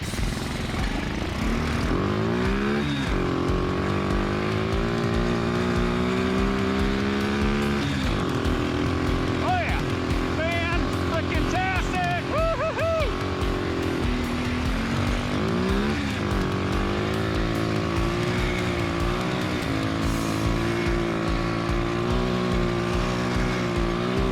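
A homemade snow bike's engine revs hard and holds a loud, buzzing drone throughout, with rising and falling pitch as the rider pushes it on snow; a voice talks briefly over it.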